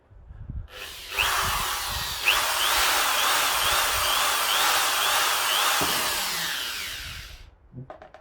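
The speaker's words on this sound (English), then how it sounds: "Keep drilling, Dick." A power drill whirs into wood for about six seconds, loud and close, with a couple of brief pitch dips as it bites, then stops.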